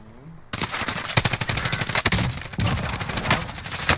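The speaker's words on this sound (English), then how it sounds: "Yeah, he's sniping." Gunfire in Call of Duty Cold War Warzone from a sniping enemy, a quiet opening that breaks into loud, sharp shots and rapid bursts, with cracks continuing irregularly throughout.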